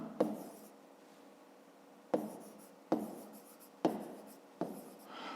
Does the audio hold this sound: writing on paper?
yes